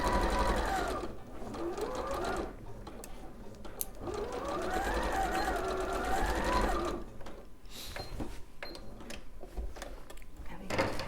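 Sewing machine running close in bursts of fast stitching, pausing and reversing for a couple of back stitches, with a faint voice in the background.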